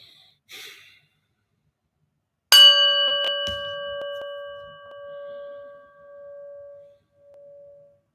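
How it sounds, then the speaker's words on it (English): A meditation bell is struck once after a soft breath and rings out clearly. Its bright tone decays slowly over several seconds in a quiet room, swelling faintly as it fades. "you listen to the bell from start to finish and just focus on the bell"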